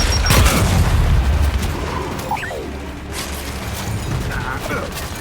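Frag grenade blast in the Gears 5 video game, a heavy low boom with crashing debris near the start, followed by rumbling combat noise and gunfire throughout, with voices shouting over it.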